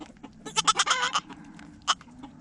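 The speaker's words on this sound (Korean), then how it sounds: "삐삐는 계속해서 핥아주며 격려를 해주고 있고 아기 염소도 힘을 내어 일어서기 위해 애쓰고 있다" A newborn male dairy goat kid, still wobbly on its legs, lets out a loud, close run of quavering bleats, then after a short pause a single shorter bleat, with no talking.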